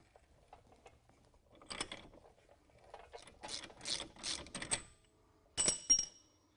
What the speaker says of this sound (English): get yourself a pry bar, get everything secure, and go ahead and back it off